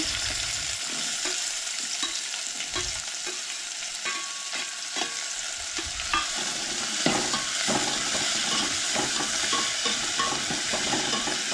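Onion sizzles and fries in hot oil, a dense steady crackle close up, with scraping stirs in the pan growing busier toward the end.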